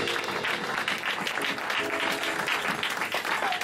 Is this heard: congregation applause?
yes